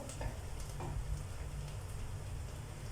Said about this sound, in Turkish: Soğanım da kavruluyor.